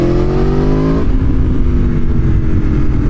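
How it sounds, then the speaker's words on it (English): An Aprilia Tuono 1100 Factory motorcycle engine revs loudly up close, holding a high whine before dropping off into a rough, rumbling idle. "this bike has a thunderous note to it"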